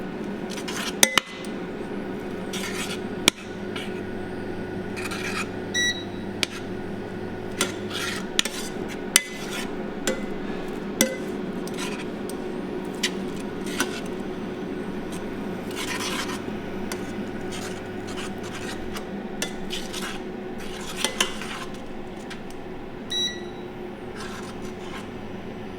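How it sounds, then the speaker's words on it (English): A spicy dish being stirred in a pan, with a utensil repeatedly scraping and clinking against the metal in a steady, close rubbing rhythm, plus a few sharper taps, and no voices. "this dish is supposed to be quite spicy, and we just keep stirring"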